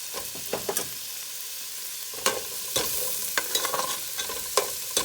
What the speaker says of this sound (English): we're going to cook the onions down till they're translucent